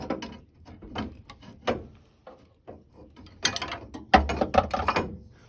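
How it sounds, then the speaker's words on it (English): A washer and blade are removed from a Brevetti mitre saw, giving a series of close metallic clicks, ratcheting taps and small clanks at an irregular pace that grow louder and busier toward the end. "You'll then take off a washer and then very carefully, because they are a little bit sharp,"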